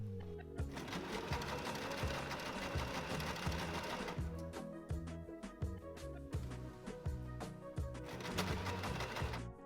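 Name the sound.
sewing machine sewing fabric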